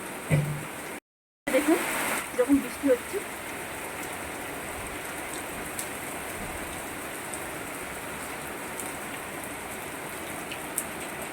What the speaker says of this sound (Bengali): কিন্তু এখন প্রচুর জোর বৃষ্টি হচ্ছে